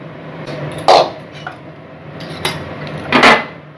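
Metal pot of lau ghonto, bottle gourd cooked with mung dal, lifted off a gas stove, giving two clanking scrapes of metal on the burner with a few lighter knocks between them.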